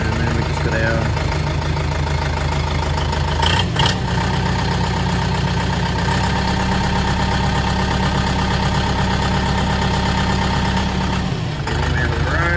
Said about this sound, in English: So it's a pretty quiet tractor really, it's not that loud.